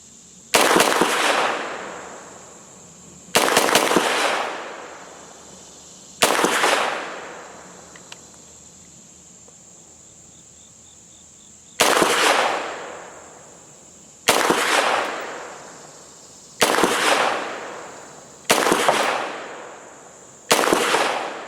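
Gforce Jawbone 9mm pistol firing outdoors: eight loud, sharp gunshots, each with a ringing decaying tail, spaced unevenly over about twenty seconds with a long pause in the middle.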